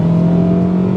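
A Honda Accord Euro R's K20A engine holds a loud, steady high rev with a strong constant tone, close and sustained, no voices.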